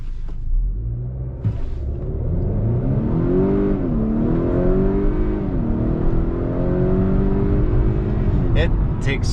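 A 2021 Honda Accord 2.0T Sport accelerates hard from a standstill, its engine note climbing steadily through the gears with a continuous loud rumble, heard from inside the car and partly masked by talk.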